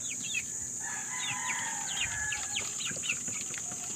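Backyard chickens with a rooster making short clucking and chirping calls, several birds close by over a steady hum, as they wait to be fed rice.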